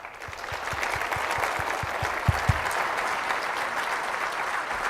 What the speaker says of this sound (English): Continued round of applause for Governor Thompson